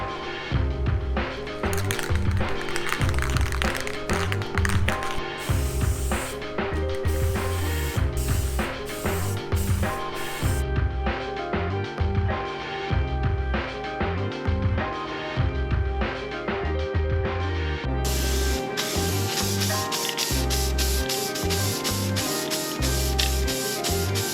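Spray paint hisses from an aerosol can onto a homemade skateboard deck in long and short bursts, with the can's mixing ball rattling between sprays, close and steady with no voices.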